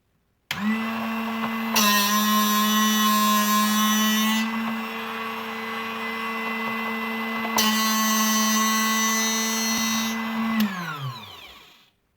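A Drill Doctor XP drill bit sharpener, a Tivoly DB 400b, whirs steadily as its grinding wheel sharpens a drill bit, with two louder grinding bursts while the bit is worked, then the motor winds down at the end.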